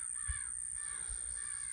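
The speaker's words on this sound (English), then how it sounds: "scared off a group of crows" A group of crows caws at a homestead, a few short harsh calls sounding at a moderate distance over steady background noise.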